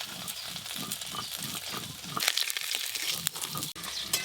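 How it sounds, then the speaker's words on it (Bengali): Small fish frying in hot oil in a home kitchen, giving a steady crackling sizzle that runs throughout at moderate loudness, with a few sharper pops and clatters of utensils near the end. "ছোটো মাছগুলো ভাজা হয়ে গেছে"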